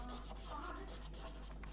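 Pen writing on paper during a lecture, quiet continuous scratchy strokes with short pauses between words, close and soft against a low hum.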